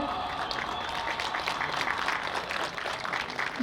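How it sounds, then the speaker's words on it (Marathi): Audience applause at an award ceremony honouring community workers in Panaji, a steady wash of clapping from many hands that holds at an even level for the whole stretch, with no voices over it. "जोरदार टाळ्या"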